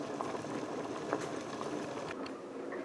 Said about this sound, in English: both our dal and rice is bubbling away